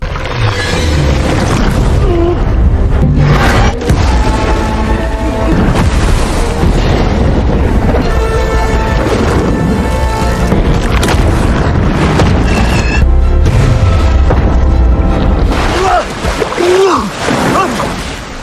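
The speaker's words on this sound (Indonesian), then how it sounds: "Meski Yu Ming mampu meledakkan bom" A loud, booming bomb explosion rumbles amid a dense, chaotic mix of music and effects, with heavy low-end impacts throughout.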